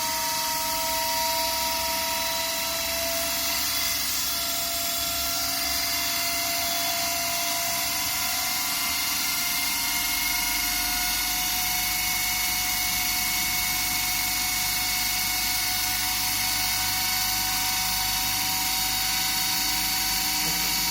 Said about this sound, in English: we are going to fix the DC motor speed as 1500 RPM